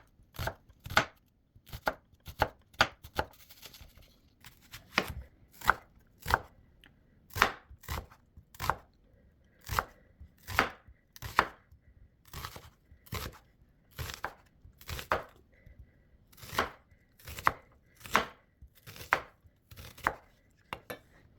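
A knife slices onions thinly for homemade onion powder, each cut a crisp, close thud on a cutting board, about thirty strokes in quick, irregular bursts with short pauses between them.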